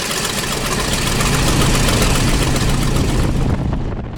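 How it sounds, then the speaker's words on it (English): A 300 horsepower nine-cylinder radial aircraft engine drones steadily and loudly from close by, a dense continuous roar with a low throbbing hum that eases slightly at the end. "It's got a big 300 horsepower radial engine, 9-cylinder, so it takes off and lands really short."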